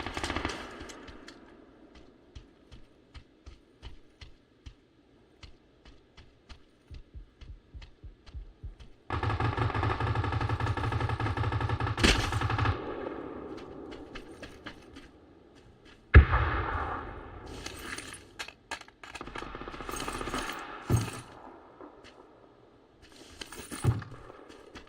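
Gunfire in the battle royale game PUBG, heard in a match: a long run of distant single shots, then loud sustained bursts and sharp close cracks of varying intensity.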